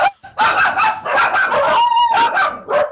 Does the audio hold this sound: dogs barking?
yes